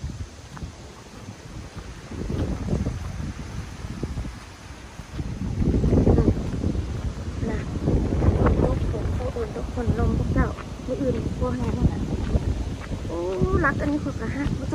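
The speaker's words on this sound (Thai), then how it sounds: "ลมพายุเอาแท้ว่า" Strong storm wind buffets the microphone in gusting roars during heavy rain, swelling louder midway, with voices talking faintly underneath.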